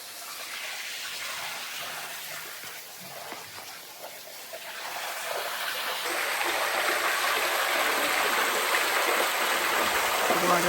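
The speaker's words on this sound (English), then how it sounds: "The water fountain." A water fountain at a hotel in the Sacred Valley splashes in a steady rushing hiss, growing louder and closer midway as someone talks over it.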